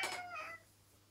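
A cat lets out a short, faint meow, a single two-part cry that fades quickly into quiet room tone.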